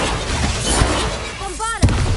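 A Bombarda explosion spell in a Harry Potter video game: a short, sharp blast near the end follows a rising magical shimmer over steady background game sound.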